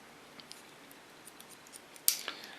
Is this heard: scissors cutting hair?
yes